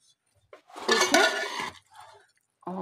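Metal utensils clink and scrape against a pot while Bombay biryani is dished out, a short busy cluster of clatter followed by a few lighter taps, close and clear.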